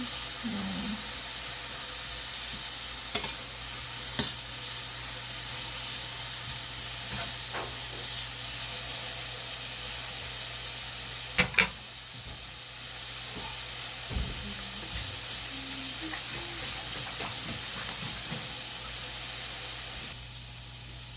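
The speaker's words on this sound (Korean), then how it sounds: "당근을 약간 말랑말랑해질 때까지 볶아주는 게 좋습니다" Carrots stir-frying for japchae in a pan give off a steady sizzle and hiss with occasional stirring clicks and scrapes, close by and unbroken, with no voices.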